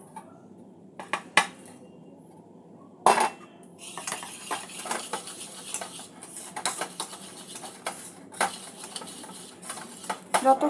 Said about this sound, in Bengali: এখানে মাখন আর চিনিটা একটু ভালো করে ফেটিয়ে নেব